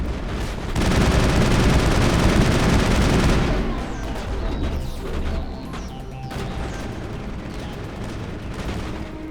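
Gunfire in the Mass Effect video game, a dense, loud roar of rapid shots and blasts for the first few seconds, then thinner scattered shots and clatter over a lower rumble.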